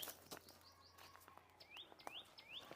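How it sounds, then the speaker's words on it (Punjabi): A bird calls repeatedly with short, rising chirps and whistles, clear against a quiet background, with a few soft taps in between. "ਆ ਪੰਛੀ ਕਿਹੜਾ ਬੋਲਦਾ"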